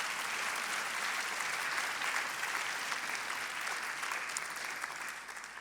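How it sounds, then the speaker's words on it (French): Dense, steady applause from an audience at an awards ceremony, a continuous wash of clapping that holds even and moderately loud throughout, with no voices standing out. "mais on peut l'applaudir quand même."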